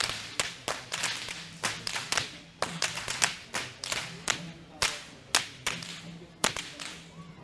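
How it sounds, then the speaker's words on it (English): Sharp whip cracks ring out in quick, irregular bursts from whip wielders at the Kandy Esala Perahera procession, loud and near over a faint crowd hum. "these whip wielders are the symbolic imagery to depict the sound of lightning and thunder"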